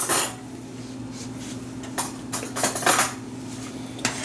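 A clean teaspoon clinks against a metal pot while salt is added to an oriental Chinese-style seafood soup, giving a few sharp, close metallic taps and scrapes over a steady low kitchen hum, with no talking.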